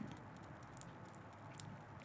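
Rain patters softly and steadily, with scattered light taps and drips over a faint, constant hiss, quiet and close, with no voices.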